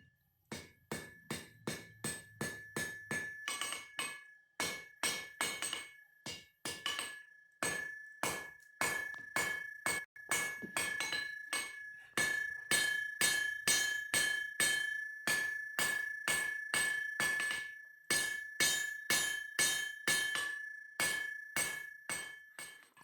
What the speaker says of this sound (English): I rough these jaws out with a large hammer and then go back with a smaller hammer